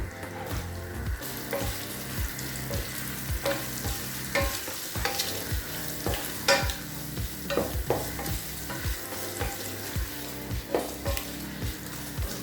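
Loud, steady sizzling of sliced onions sautéing in a pan for vegetable biryani, with frequent clanking and scraping from a spatula stirring throughout.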